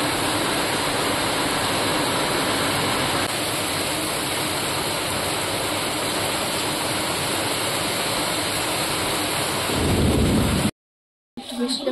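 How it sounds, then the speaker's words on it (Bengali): Heavy rain pours in a dense, loud, unbroken roar with deep thunder rumbling beneath it, then cuts off abruptly for a moment near the end before resuming. "কি পরিমাণে বৃষ্টি হচ্ছে।"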